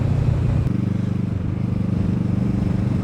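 A 2015 Kawasaki ER6F motorcycle engine drones in a steady, pulsing rumble while riding, loud and close, with a brief shift in tone early on.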